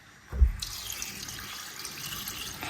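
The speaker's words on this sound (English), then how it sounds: "We'll start by washing our palm nut fruit." Palm nut fruit being washed in water, with a splashing burst near the start followed by steady running, sloshing water close by.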